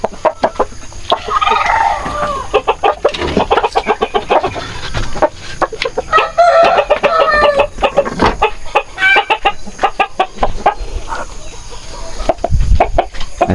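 Aseel gamefowl roosters cluck repeatedly in loud, close, choppy bursts, with a few crowing calls rising out of the steady clucking.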